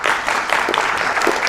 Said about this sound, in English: let's give it up a round of applause to Logistics Team